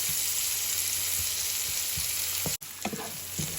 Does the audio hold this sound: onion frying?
yes